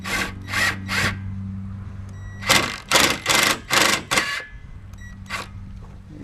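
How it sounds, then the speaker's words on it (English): A small 3/8 impact driver on a 2001 Chevy 1500 truck frame fires in short rattling bursts, several quick hammering runs separated by pauses, close and fairly loud, as a self-tapping screw is driven in. "So I'm going to use my impact, little 3/8 impact,"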